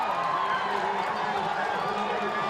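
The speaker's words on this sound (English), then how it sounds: "You can hear the Hornet crowd not happy with the in-out call" Disgruntled home crowd at a Fullerton College Hornet football game reacting to a touchdown catch ruling, a steady broad murmur of many voices with scattered shouts, sustained and fairly distant throughout.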